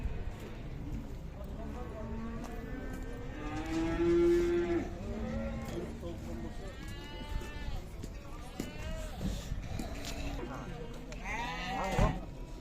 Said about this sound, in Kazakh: Шаруа қозылар, қойлар.